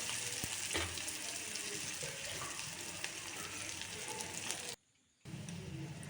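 Onion and dried red chillies fry in oil for lentils in a soft, continuous sizzle and hiss, faint and close, broken by a brief silent gap near the end.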